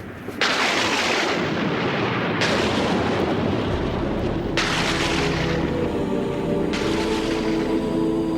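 A thunderstorm with loud, rolling thunder bursts, four heavy crashes arriving about every two seconds over a continuous low rumble.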